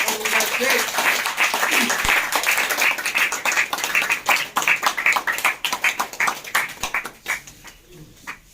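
Audience applause for diamond directors walking on stage at a business event, loud, dense clapping that stays steady, then thins into scattered, separate claps near the end.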